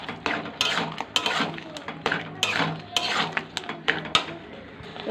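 A spoon scraping and clinking against a pan while poppy seed paste (posto) is stirred, steady irregular metallic taps and scrapes, close and clear, with a voice faintly underneath.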